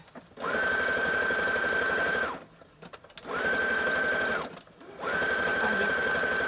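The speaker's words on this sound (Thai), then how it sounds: "ต้องเย็บหลายๆครั้งหน่อยถ้าเอาได้สีเดียวกันน่ะคนก็จะมองไม่เห็น" A sewing machine stitches a torn trouser seam in three bursts of fast, even, whirring stitching, each about two seconds long and separated by short pauses, loud and close.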